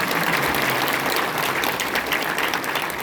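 A large audience breaks into dense, loud, continuous applause that holds evenly from start to finish with no pauses.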